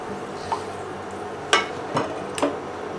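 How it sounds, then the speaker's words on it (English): Blueberry and cherry moonshine mash being stirred in a pot, with a few distinct scraping and clinking strokes against the pot over a steady low background hiss. "keep stirring that, so we don't want it to burn"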